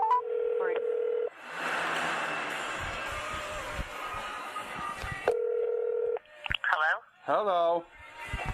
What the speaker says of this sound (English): Let's see if we can call it Jamie